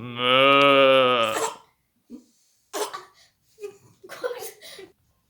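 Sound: person imitating a cow mooing

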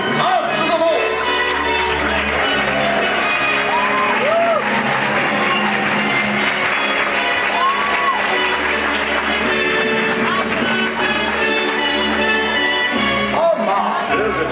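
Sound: audience cheering and applauding at Medieval Times show

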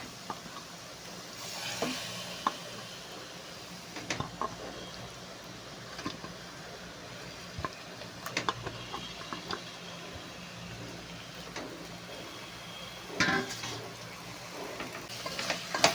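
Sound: chicken pieces added to pot and frying in masala

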